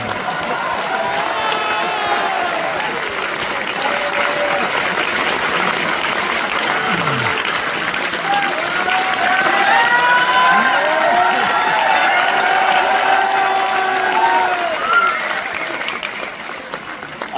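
Loud, sustained applause from a seminar audience at a network marketing event, continuous clapping with crowd noise and some cheering, swelling slightly in the middle before tapering off.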